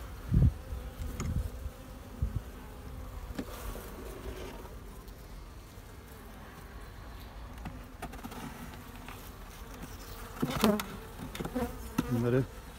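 Honeybees buzzing around a hive during a hive transfer, a steady low hum with occasional closer buzzes and a few soft knocks, no talking.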